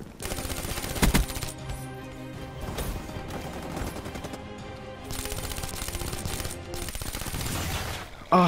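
Call of Duty: Black Ops III gunfire rattles in near-continuous bursts, dense rapid shots with brief gaps, loud and close amid game sounds, with no speech.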